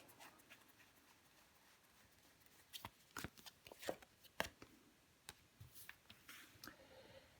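Tarot cards are handled and laid down in a quiet room, faint at first, then a run of crisp flicks, slaps and shuffling taps, soft and close.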